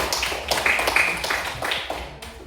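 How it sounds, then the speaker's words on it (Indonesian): A small classroom group claps for group 1 during a teaching session: a brief burst of close, uneven hand claps with scattered individual slaps that thin out after a couple of seconds. "Kita kasih aplaus untuk kelompok 1 dulu"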